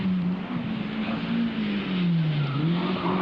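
A 1991 rally car at the International 3 Städte Rallye drives hard and fast, the engine holding a sustained droning note that rises and dips as it accelerates, with tyre noise underneath.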